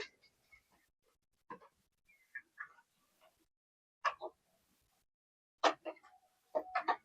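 Rhode Island Red hens in a backyard coop give several scattered short clucks and soft calls, faint and intermittent with quiet gaps between them.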